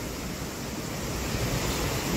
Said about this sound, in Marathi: धबधब्याचा तर आवाज भरपूर जास्त येता।